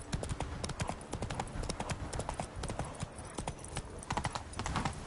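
Roach, Geralt's horse in The Witcher 3: Wild Hunt, gallops with rapid, rhythmic hoof clip-clops that stay close and steady throughout, backed by a dense wash of in-game ambience and no clear speech.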